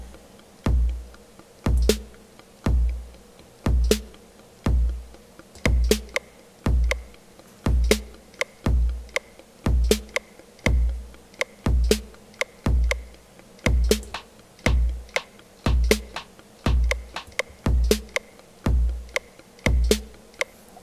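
Clock Watcher sequencer with several channels running patterns together, producing a steady repeating electronic pulse of punchy low thumps and sharp clicks in a tight looping rhythm, fairly loud and without talk.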